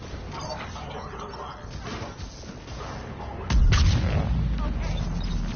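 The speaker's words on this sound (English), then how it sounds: "Those cannons have to be stopped." Heavy cannon fire in a sci-fi video game battle, a dense rumble of booms and thuds under game dialogue, with a sudden louder deep blast partway through that keeps rolling to the end.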